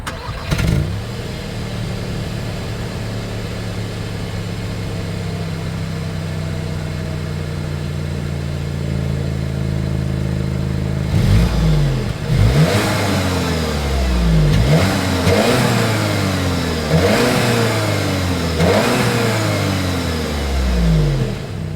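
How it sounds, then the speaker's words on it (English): A 2025 Audi A3 engine idles with a low burble, then is revved repeatedly in several sharp rising-and-falling bursts through the exhaust. "here is that exhaust clip"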